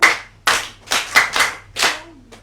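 A small group claps hands for Lala on a Yoruba podcast, six or seven sharp, close, separate claps in an uneven rhythm, with a brief voice near the end.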